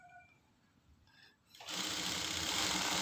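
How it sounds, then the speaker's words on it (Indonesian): A sewing machine stitching the collar onto a tunic, starting after a quiet moment into a loud, steady, fast mechanical whir that runs on alone and close. "Kita jahit pelan-pelan."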